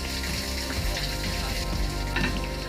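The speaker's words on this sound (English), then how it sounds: "waterfalls pouring into the entrance" Waterfalls pour into a cave entrance at Carlsbad Caverns National Park, making a dense, steady roar of rushing, splashing water that fills the space continuously with no voices.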